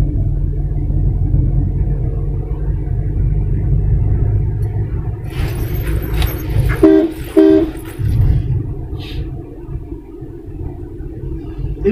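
A car driving through busy traffic during a driving practice session, with gears being changed: a loud, steady low rumble of engine and road heard from inside the vehicle, with a couple of short tonal toots from the surrounding traffic midway.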